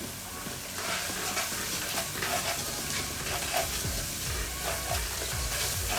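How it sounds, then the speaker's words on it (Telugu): Ingredients for mutton keema fry in a pan with a steady, close sizzle and hiss, while a utensil scrapes and stirs in repeated strokes throughout. "ఇది కూడా పచ్చివాసన పోయే వరకు వేయించుకుందాం."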